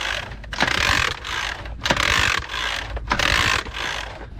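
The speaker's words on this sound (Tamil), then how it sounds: "ஆயில் நீங்கள் எவ்வளோ ஊற்றுறீங்களோ அந்த அளவுக்கு பம்ப் பண்ணணும்." A hand pump works oil through a boat engine in steady strokes, about five rhythmic mechanical pulses in four seconds, close and loud with clanking and ratcheting, no talking.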